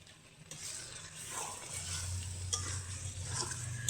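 Water used to wash ground spices on a grinding stone is poured into a hot pan, where it sizzles and bubbles steadily at close range with light stirring clatter, fairly quiet and with no talking.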